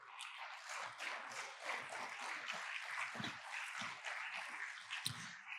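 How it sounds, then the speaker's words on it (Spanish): A church congregation claps together in a sustained round of dense, even applause, fairly faint and distant, with no talking over it. "un aplauso, claro que lo merece."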